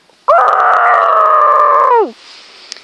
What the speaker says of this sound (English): The bullock male iguanodon screams in pain.